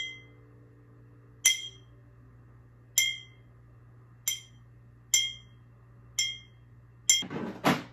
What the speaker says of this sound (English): That way it has the sound of the glass bottle